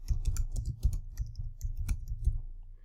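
Someone types a name on a computer keyboard with a quick, uneven run of close, crisp key clicks and thumps that keeps going throughout without a pause.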